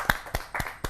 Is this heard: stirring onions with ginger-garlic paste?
no